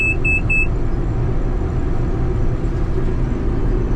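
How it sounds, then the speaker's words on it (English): Three quick electronic warning beeps sound at the start over the steady, loud engine drone of a New Holland TR88 combine harvester that continues throughout. "it beeps to tell us that all of these things are wrong"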